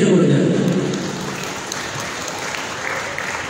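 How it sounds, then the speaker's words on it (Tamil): At an award ceremony and fund-raising night for a Penang silambam martial arts group, an audience gives loud, dense applause that starts strong and stays as a steady wash of clapping for a few seconds, with some murmuring voices beneath. "அதுக்கு ஒரு பலத்த கைத்தட்டு கொடுங்க"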